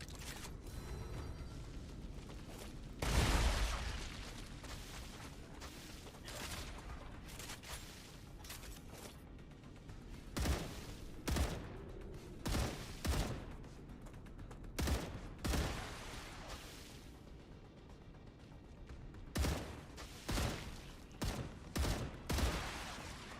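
Shotgun and assault rifle fire from the Star Rupture video game: scattered loud gunshot bursts, some in quick clusters of several shots, separated by quieter stretches of mechanical ambience, with no talking.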